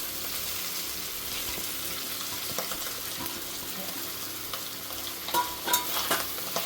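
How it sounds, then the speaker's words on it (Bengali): Egg chicken pasta ingredients frying in a pan, with a steady sizzle and bursts of stirring and scraping that grow louder near the end. "নেড়ে চেড়ে নেবো।"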